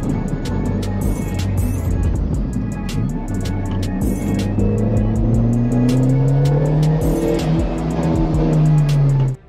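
A Mazda Speed Protege sports car engine revs hard and loud, climbing in pitch through repeated rising sweeps with sharp ticking transients, then cutting off abruptly at the end.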